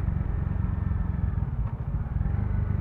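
Bajaj Dominar 400 motorcycle cruising on an open road, its steady low engine thrum and wind rumble loud and continuous from the rider's position, with no talk.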